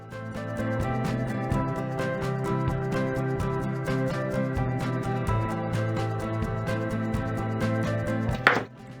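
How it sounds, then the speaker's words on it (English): A knife chopping potatoes into wedges on a cutting board, a steady run of close, crisp cuts repeating in a quick rhythm, with one louder clatter near the end and a low kitchen hum beneath. "You'll place the knife in the center, cut into a wedge and into another wedge to make 3 potato wedges."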